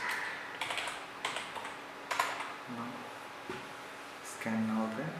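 Quiet, close keystrokes on a computer keyboard as an SFC scan command is typed in Windows 11, a few separate clacks spaced out and a final Enter press, with a voice talking faintly alongside.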